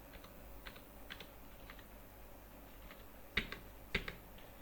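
A computer keyboard gives a sparse run of faint, close keystrokes in a quiet room, with two sharper taps near the end.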